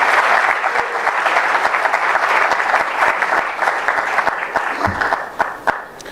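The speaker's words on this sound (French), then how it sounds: "Nous allons recevoir pour la deuxième personne qui va intervenir, le professeur Godin Poyi, et il a aussi 30 minutes sous vos acclamations" An audience applauds to welcome a professor taking the floor at a religious gathering, a dense, steady roar of clapping close by that continues throughout and thins a little near the end.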